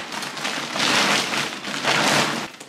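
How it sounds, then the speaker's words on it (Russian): Steady rain pours down in a dense, continuous hiss that swells louder twice, with no voices or other sounds over it. "Там дождь идет."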